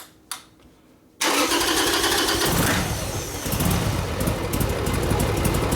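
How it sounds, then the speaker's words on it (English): Harley-Davidson Sportster custom engine cranks and catches after a short pause, then settles into a loud, close, steady idle that carries on alone. "It won't take the throttle, but it'll idle at least."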